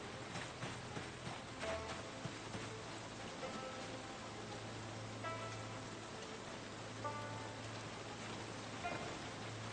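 Steady rain falls in the Project Zomboid video game, a constant soft hiss with scattered drop patter and a low background hum throughout.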